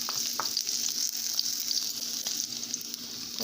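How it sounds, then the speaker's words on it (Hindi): Mustard seeds, red chili, green chili and chopped onion fry in hot oil for a dosa and sambar recipe, a steady close sizzle and crackle with no pauses. "तेल गर्म हो चुका है। अब हम इसमें मस्टर्ड सीड ऐड करते हैं, 1 रेड चिली ऐड करते हैं, 1 हरी मिर्च ऐड करते हैं, कटी हुई ऑनियन ऐड करते हैं"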